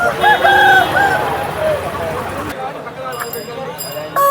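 A rooster at a rooster market in Vijayawada crows loudly nearby in a short rising call, with someone talking over the scene and other market noise and faint clucks behind.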